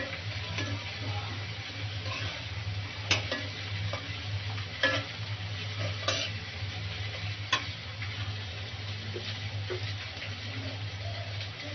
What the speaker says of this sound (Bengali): এখন একটু ভাজা ভাজা করে নিব পেঁয়াজটাকে।